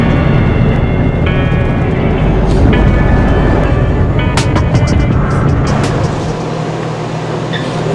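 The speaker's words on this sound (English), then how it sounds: "Now we're gonna take the flyaway bus." Steady loud road rumble and engine drone inside the FlyAway bus riding from Union Station to LAX, with brief rattles and clicks over the continuous noise, then a slight drop in level near the end.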